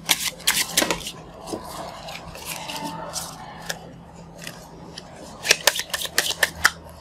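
Playing cards are shuffled during a card magic trick: crisp riffling and rubbing come in close bursts at the start and again near the end, with quieter handling in between.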